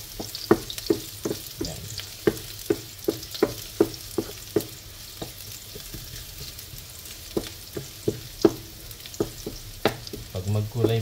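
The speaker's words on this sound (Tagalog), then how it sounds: "nilagay ko ng bawang. Halo-haloin lang natin na antayin natin magkulay brown." Garlic frying in a pan while being stirred, with a soft steady sizzle under a run of sharp, regular scraping knocks from the spoon against the pan, close and fairly loud, with no talking.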